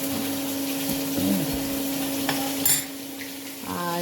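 Fish fries in a pan in a home kitchen, a steady close sizzle with a low hum underneath and a brief clatter near the end.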